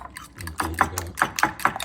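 Stuffed egg mixture with onions being beaten by hand in a bowl on the stove, a series of quick, close scraping and tapping strokes in an uneven rhythm, with faint talk at the start.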